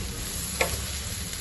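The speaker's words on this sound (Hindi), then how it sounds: "घी को हमने करना है सौते।" Ghee sizzling and frying steadily in a pan while being sautéed and stirred, a continuous soft crackle with one brief louder clink partway through, no voices.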